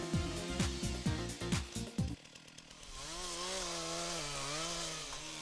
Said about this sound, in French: Une chaîne bien affûtée réduit les frais d'entretien de la tronçonneuse